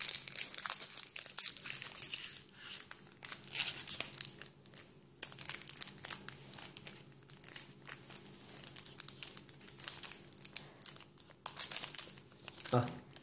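Pokémon ex Legend Maker booster pack wrappers crinkle and tear open in close, repeated bursts of foil rustling, with people talking over the handling.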